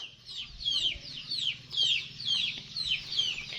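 Chickens cluck and squawk in a repeated, steady series at a rural Thai home where eggs have fallen and broken, the calls fairly close over a low background hum with no talk.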